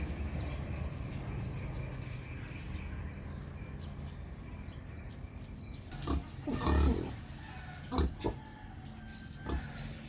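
Two native pigs grunting, low irregular snorts and grunts in the second half over steady outdoor background noise.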